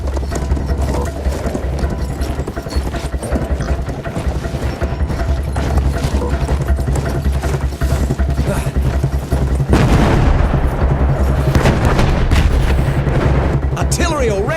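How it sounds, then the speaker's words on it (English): Battlefield 1 artillery barrage shelling a village and outlying forts, heavy booms and crumps rolling over a constant loud battlefield din, with a stronger blast swelling near the end. "Artillery fire ordered to cover retreat to beach, shelling the village and outlying forts"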